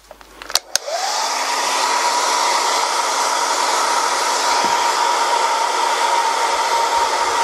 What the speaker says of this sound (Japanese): こうしたドライヤーで少し、この、蜜蝋を溶かしてあげて